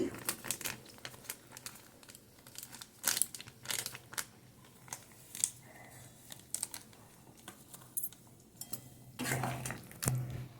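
A banana flower curry is stirred in a pot, with irregular clinks and scrapes of a spoon against the pot and soft wet shuffling in bursts, close and fairly quiet, no talking.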